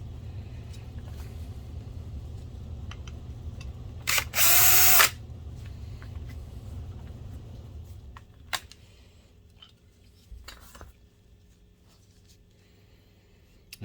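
A BenQ HT2150ST DLP projector's color wheel, its cover removed for cleaning, gives a brief high motor whine for about a second, rising above a low steady hum, then fades to quiet ticks and handling noises.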